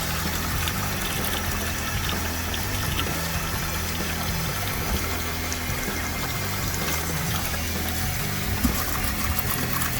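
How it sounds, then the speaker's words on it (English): Water from a hose attached to a sink pours steadily into an Icybreeze cooler, a constant close rushing and splashing fill with no speech over it. "Put a nice little bit of water in here inside the Icybreeze."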